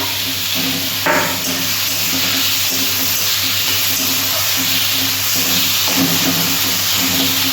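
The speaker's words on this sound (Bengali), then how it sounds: "আমি রসুন আর আদা পেস্টটা দিয়ে দিলাম" Garlic and ginger paste sizzling in a hot pan, a steady close frying hiss that keeps up without a break over a constant background hum.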